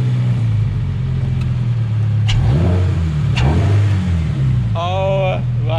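A Toyota GR86 with an aftermarket air intake idles with a steady engine drone, then blips the throttle in sharp revs that rise and fall, with a final rising rev near the end; nearby and loud.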